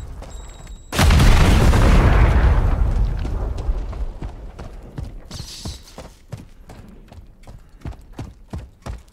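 A grenade explodes in Call of Duty Modern Warfare III, a sudden loud close boom with a long rumbling decay, followed by quick running footsteps and scattered clatter.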